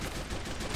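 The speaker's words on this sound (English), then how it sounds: "The MG guns are still ripping off" Machine gun fire in the World War II strategy game Men of War: Assault Squad 2, during a Peleliu beach assault: a dense, continuous burst of rapid automatic shots filling the short moment, loud and unbroken.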